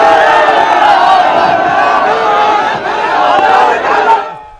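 Large crowd at an INDIA bloc opposition rally in Bihar roars and cheers continuously, a dense wall of shouting voices loud and sustained before fading at the end.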